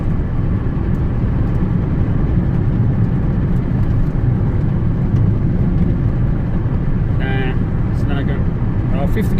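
Fiat 500 with a Dualogic gearbox, which has a fault that makes it jump out of gear, cruising in fifth gear: a steady, loud low engine and road drone from inside the cabin, with a faint brief sound near the end.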